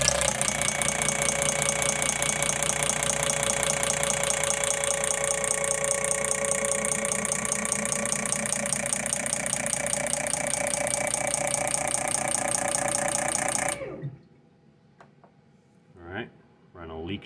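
Optimax air injectors sit on a test machine and bleed air with a loud, continuous pulsing mechanical buzz that runs for about fourteen seconds, then cuts off abruptly, followed by a few short hisses.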